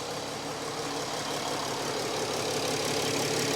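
Mercedes 3.0L OM642 diesel engine idling nearby in an ML350, a steady unbroken mechanical hum with a faint knocking texture, no talk.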